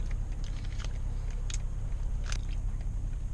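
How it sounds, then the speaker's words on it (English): Sticky gummy candies are chewed close up inside a 2020 BMW M340i on a rainy drive, with soft, wet biting and crunching sounds over a low, steady cabin rumble and no talking. "Look at these. They're just too damn sticky. Can't even chew them."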